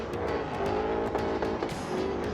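A 400 hp BMW E46 drift car with an S62 B50 engine, competing at a Polish drifting championship round, roars loudly and steadily with screeching tyres throughout, without talk.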